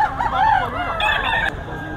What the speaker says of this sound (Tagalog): At higit sa lahat, may gulang ang mga manok ni Boss Jeff.